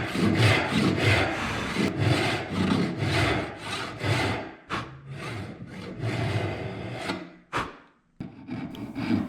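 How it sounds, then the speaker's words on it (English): A hand saw works through a wooden board on a hand-tools-only dovetailed box, cutting down a marked line in steady rhythmic back-and-forth strokes, close and loud, pausing briefly near the end before a few final strokes. "Flip the board around and very carefully cut down that last line where the vertical line was drawn on the inside face of the board."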